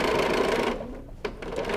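A sewing machine stitches lace binding onto a quilt in a fast, steady mechanical buzz, briefly pausing near the end before resuming with a short back stitch, close and clear.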